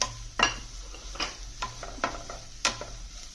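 A spoon clanks and scrapes against a pan while mushroom masala with onions and curry leaves is sautéed, several separate metallic knocks spaced unevenly over a faint low hum, close and fairly quiet.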